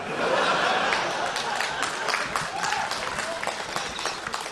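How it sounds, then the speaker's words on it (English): A live comedy podcast audience breaks into steady applause mixed with chuckles and laughter, the clapping dense and sustained, slowly thinning toward the end. "Dune recaps always get a round of applause."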